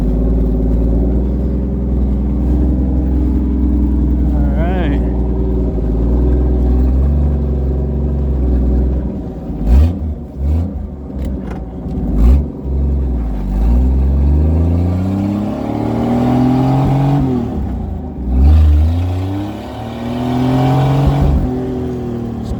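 A car engine revs hard and repeatedly at close range, climbing and falling in pitch, stuttering and breaking up near the top of each rev, with no talk over it.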